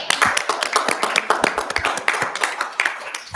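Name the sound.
applause at a park board meeting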